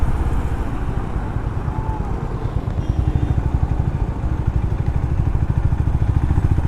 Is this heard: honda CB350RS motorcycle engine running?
yes